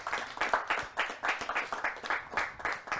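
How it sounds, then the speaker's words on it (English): Applause from an audience at a student late show, with clearly separate rhythmic claps forming quick pulses that repeat across the whole span, close and fairly loud with no voices over them. "I also want to give a big applause to the guests that appeared, Leroy, Menno, and Smileys."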